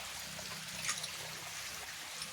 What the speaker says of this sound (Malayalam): ആ ഓടയിൽ കൂടെയും ചെറുതായിട്ട് വെള്ളം പോകുന്നുണ്ട്